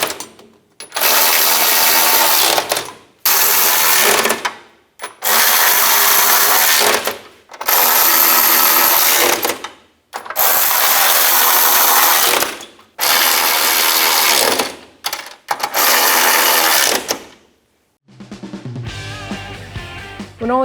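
A ratchet tightens bolts on the running board of a 2007-2013 Chevrolet Silverado 1500. About seven loud, close mechanical bursts of a few seconds each are separated by short silences, and a different softer sound follows at the end.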